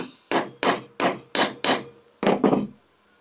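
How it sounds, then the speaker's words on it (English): A claw hammer strikes hatchet steel seven times, sharp metallic blows, five evenly spaced then a quick pair, close and loud with a faint ring. "You just hit it with a claw hammer."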